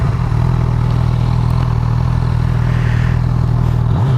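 A 2018 Honda CB1000R engine drones steadily at a low, even pitch while riding, loud and close with constant wind rush, then shifts briefly at the very end.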